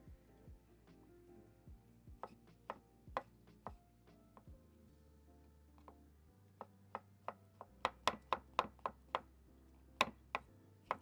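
Kitchen knife slicing radish and mushrooms on a cutting board, a series of crisp close chopping taps, sparse and uneven at first, then quicker and louder near the end, with no talking.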